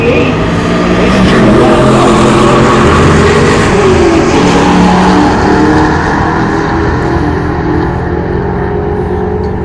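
Pontiac G8 with a V8 engine revving loudly and steadily, a dense continuous roar with rising and falling pitch, recorded close with a busy, noisy background.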